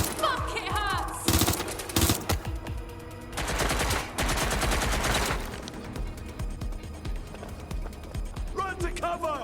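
Rapid bursts of automatic gunfire and scattered shots from a console shooter on Xbox One, loud and dense at times, trading off with short gaps; game voices shout over the firing.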